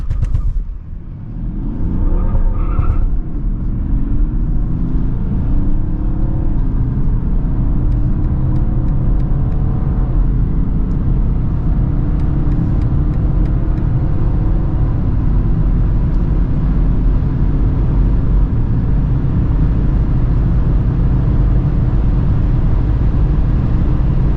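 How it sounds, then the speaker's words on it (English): A 2022 BMW 730d LCI diesel sedan accelerates hard from 100 to 200 km/h, a loud sustained engine drone with low rumbling and rising tone after a brief gear change near the start, heard from inside the car. "How fast the 730D goes, 100 to 200."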